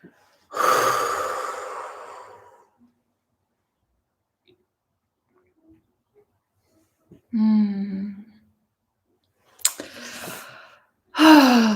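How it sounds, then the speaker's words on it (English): Deep, slow breaths drawn in and let out during a guided calming moment, two long sighing exhales separated by silence, with a few shorter breathy sounds near the end, close and alone with no talking. "Let's take some deep breaths together."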